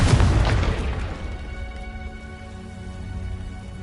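A Confringo fire spell explodes in the Hogwarts Legacy video game, a loud burst at the start followed by a crackling, rain-like rumble that slowly fades.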